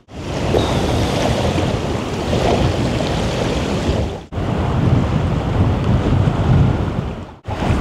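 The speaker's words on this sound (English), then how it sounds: "It's so windy today" Strong wind buffets the microphone on the Black Sea coast, a loud continuous roar with gusty swells and two brief drops, while surf churns beneath; no one speaks.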